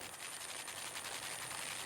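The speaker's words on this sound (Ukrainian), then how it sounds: "Аби до заблокованих людей доправляти провізію, використовують гелікоптери." Rescue helicopters delivering provisions to people cut off by floodwater, heard as a steady broadband rotor and engine roar that holds continuously without breaks.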